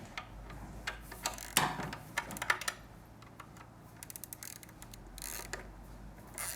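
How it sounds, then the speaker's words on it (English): A 12mm socket and wrench work loose an exhaust nut on a Triumph Street or Speed Twin motorcycle, producing faint, close, irregular ratcheting clicks and small metallic ticks. "Using a 12mm socket and a wrench, you want to hold the nut in the back here."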